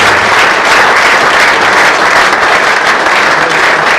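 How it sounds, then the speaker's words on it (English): Loud, dense applause from a crowd of football club supporters at a youth academy launch night, a continuous roar of clapping hands throughout. "So a big round of applause as always for Stag"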